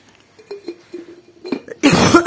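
A person lets out a harsh, loud cough burst close by near the end, after a quiet stretch of faint taps and knocks from clay pots and lids being handled.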